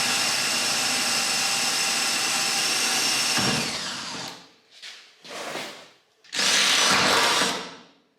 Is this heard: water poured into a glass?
no